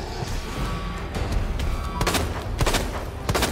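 Handgun fire in the survival horror game Resident Evil 2 Remake, several loud sharp shots spaced unevenly over a dense background of game noise, with no talking.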